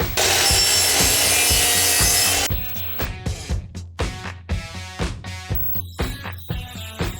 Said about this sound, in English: What I like to do is to cut the factory end off, because sometimes it's not square